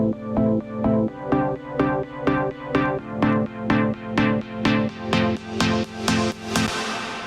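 Synth or keyboard chord progression played as rhythmic, evenly spaced plucked stabs, roughly two per second, each decaying quickly, with harmonies shifting through the bar and a brighter chord ringing out at the end; no voices.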